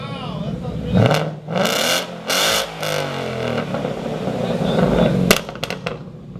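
A 2017 Mustang GT Track Pack with the Coyote 5.0 V8 and Borla exhaust revs in a few loud, close bursts, each rising and falling, followed by a steadier rumble and some clatter.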